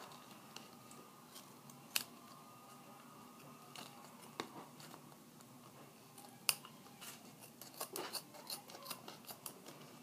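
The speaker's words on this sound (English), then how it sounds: "so I'm going to trim off the extra" Excess duct tape is trimmed away with quiet, scattered snips and small crinkling taps, faint and close, with a cluster of cuts toward the end.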